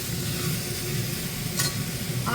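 Chicken pieces stirred in a pan for a stew, with a soft continuous sizzle, a low rumble and one brief scrape of a utensil near the end.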